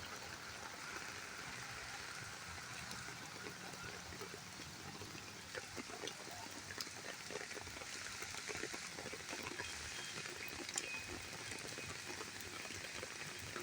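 Heavy rain pours steadily over an empty park, a dense, even hiss of falling water with dripping and splashing, continuous and close throughout, with no voices.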